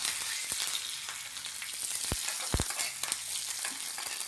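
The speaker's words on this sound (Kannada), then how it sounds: "ಸಾಸಿವೆ ಸಿಡಿತಾ ಇದೆ, ಕರ್ಬೇವಿನ ಸೊಪ್ಪು ಹಾಕ್ತಾ ಇದ್ದೀನಿ ನೋಡಿ" Mustard seeds and curry leaves frying in hot oil for a tempering, a constant close sizzle broken by several sharp pops and crackles.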